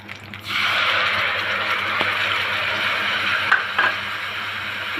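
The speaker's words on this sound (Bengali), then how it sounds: "হাফ চা চামচ কালো সর্ষে আর জিরে ভেজে নেব" Black mustard seeds and cumin fry in hot oil in a pan for a Bengali red spinach pickle, giving a steady close sizzle that starts after a brief pause, with a couple of small clinks near the end.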